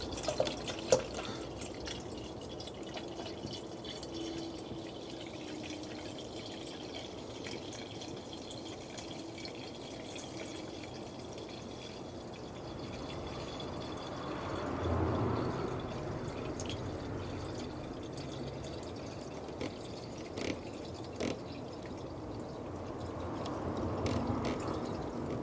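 Water trickles and drips steadily while a car's cooling system is topped up with coolant, a soft continuous liquid patter with a brief fuller pouring swell partway through, close by and with no talking.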